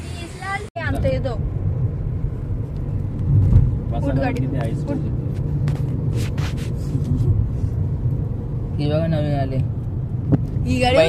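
Car driven on the road, a steady low engine and road rumble from inside the vehicle, with people talking at times.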